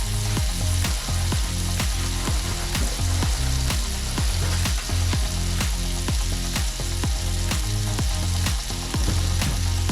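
Scallops sizzling in butter in a hot pan, held warm after searing for a gourmet breakfast; a loud, dense, steady frying hiss runs throughout, with repeated rhythmic knocks underneath and no voices.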